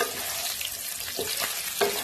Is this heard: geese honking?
no